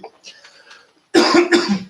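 Faint murmuring voice, then two sharp, close coughs in quick succession.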